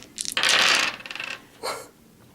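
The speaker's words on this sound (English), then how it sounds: "I'm going to throw 4 dice at" A handful of dice clatter and rattle across a hard surface as they are thrown for a psychic power roll in a Warhammer 40k tabletop game, one loud tumble followed by a smaller second rattle, with no voices.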